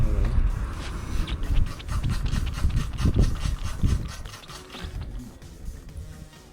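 A ratchet works a screw on a BMW 328i/528i engine close up, giving repeated rubbing, clicking and scraping strokes of steady loudness that fade slightly toward the end, with no clear speech.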